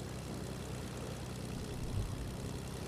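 A steady low propeller-plane engine drone held by a squad in Fortnite, even and continuous throughout with a slight swell near the end, no talk over it.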